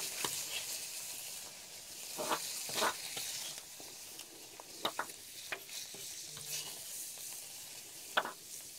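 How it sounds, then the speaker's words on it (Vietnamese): A soup pot on a home cooking fire in a Vietnamese kitchen, with water just added, gives a steady sizzling hiss broken by a few sharp clinks and scrapes of stirring, close and moderately loud. "Bây giờ là bỏ nước vào đấy xong nấu canh luôn chưa nhỉ?"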